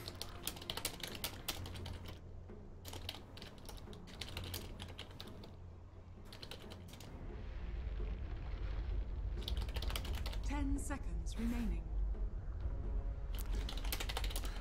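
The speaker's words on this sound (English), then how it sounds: "I was typing in the Twitch chat." Rapid computer keyboard typing during a live Dota 2 esports match broadcast, coming in bursts of clicks over a steady low background hum.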